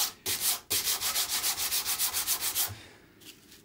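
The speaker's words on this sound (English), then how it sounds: "burnish the super glue with sandpaper even before it's dried, and then just sand" Sandpaper rubbing over super glue on a guitar during a Gibson Les Paul Junior build, a fast even run of close, rhythmic scratchy back-and-forth strokes that then stops.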